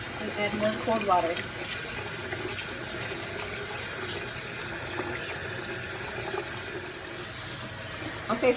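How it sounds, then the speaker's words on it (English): Cold tap water running into a sink over drained rice noodles for Hmong khao poon, a steady gushing stream with some clattering, while a person talks over it. "And add more cold water."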